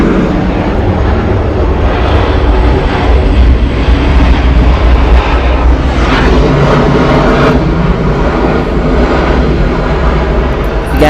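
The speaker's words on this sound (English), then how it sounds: "Arriving here is Delta Airlines Flight 648 coming in from Asheville" A Delta Airlines Boeing 717, seventeen years old, arrives at Atlanta Hartsfield-Jackson on a short flight from Asheville, its steady, loud jet roar filling the air continuously with a broad rumble throughout.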